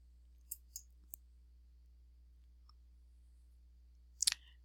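A few sharp computer mouse clicks, three close together early on, then a brief cluster of louder clicks near the end, over a quiet low hum.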